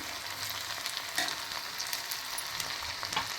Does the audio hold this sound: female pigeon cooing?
no